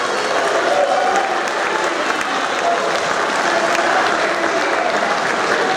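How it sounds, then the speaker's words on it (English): A school crowd gives a full round of applause at an eighth-grade awards ceremony, loud, sustained clapping with a few voices mixed in, continuing unbroken throughout. "one last round of applause"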